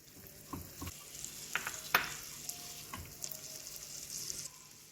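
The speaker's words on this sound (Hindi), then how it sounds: "और इसके अंदर अब हम 1 टेबलस्पून बटर डाल देते हैं" A tablespoon of butter melts into caramelized raw sugar in a pan, sizzling softly and fairly quietly with a few scattered pops and stirring clicks.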